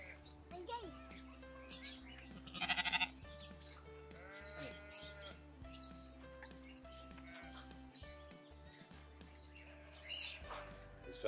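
Sheep at a city farm bleat several times in wavering cries, close and clear, with a child and adults chatting nearby and a brief high burst of chatter in between.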